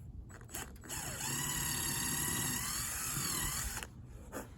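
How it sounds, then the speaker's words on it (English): A power drill bores holes into a cedar suet bird feeder, spinning up in a steady whine for about three seconds close by, with brief bursts before and after. "So what I do is, since this is the top, I drill the hole right down here."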